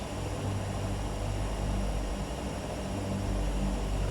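A turbine engine runs up on a Realair Turbine Duke BE60 in a flight simulator game, holding a steady, loud droning hum with a faint whine throughout, with no talking.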